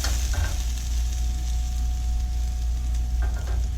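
Celery split between two pans sizzles steadily over the heat, with a constant frying hiss and a few light scrapes of a spoon stirring it, no talking.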